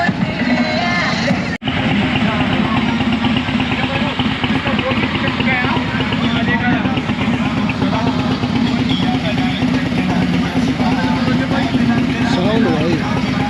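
A superbike group on a Sunday ride, including an older-model Hayabusa, with a steady rumbling engine and exhaust drone running continuously and loudly up close while people talk over it.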